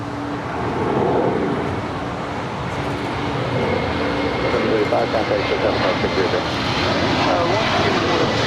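A VistaJet Malta jet aircraft at LAX gives a loud, sustained engine roar that grows slightly as it passes nearby, with voices talking over it.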